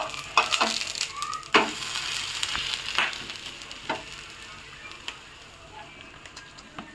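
Bottle gourd thalipeeth roasts in a pan with a soft, close sizzle broken by scattered crackles and light taps that fade toward the end.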